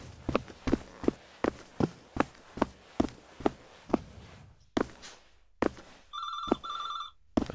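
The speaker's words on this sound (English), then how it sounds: "If I don't pick up, it'll keep on ringing." In a video game, an old-style telephone rings out near the end in two electronic trills, preceded by a long run of steady footsteps and a few thumps.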